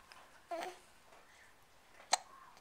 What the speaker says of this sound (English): You have the hiccups now?